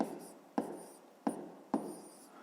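A pen scratches across paper, writing out the digits of a long division of 846.88 by 158, in three quick strokes with short pauses between them. Close and fairly quiet, with no talking.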